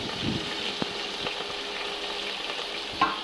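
Onions and chillies frying in oil inside a pressure cooker, a steady soft sizzle with occasional stirring clinks and a louder scrape near the end, no talking.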